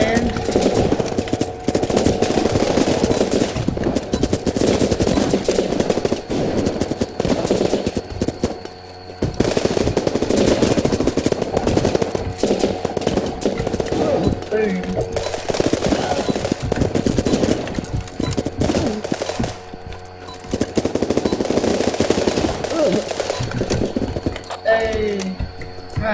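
Rapid machine gun fire from the military shooter game Running With Rifles, sustained bursts that rattle on almost continuously with only brief pauses, dense and loud throughout, with a voice talking faintly beneath.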